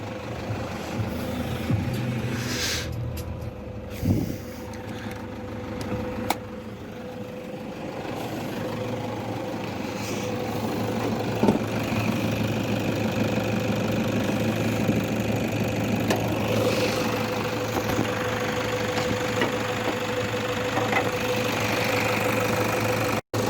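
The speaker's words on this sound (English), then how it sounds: "So yeah, Toyota's 3-litre turbo diesel, the D4D, super reliable motor." A 2008-era Toyota 3-litre D4D turbo diesel idles under an open bonnet, a steady low clattering rumble with a faint whine, heard close with a few small knocks and no talking.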